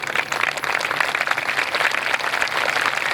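An audience at a Telugu religious discourse breaks into sustained applause, a dense, even wash of many hands clapping throughout.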